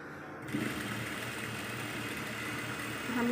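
An electric sewing machine stitches the folded hem of a shirt or kurta with a continuous quiet whirring hum, steady throughout and slightly louder at the end.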